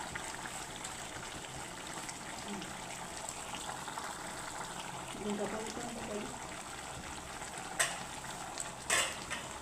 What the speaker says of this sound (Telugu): ఒకసారి గరిటెతో మొత్తం కలుపుకోవాలి. చికెన్ మసాలా మొత్తం ముక్కలకి వచ్చే విధంగా.